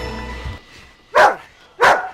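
Two loud, close dog barks from a film scene, evenly spaced about half a second apart after a quieter stretch of low background sound, with no talking.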